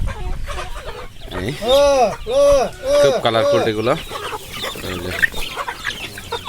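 Pahari Hili Laijja chickens cluck repeatedly in a close, loud series of calls, with someone talking over them at the farm.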